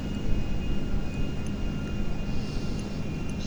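A steady, loud drone from an aeroplane engine in the video game GTA 5, a constant roar with a faint whine above it and no voices.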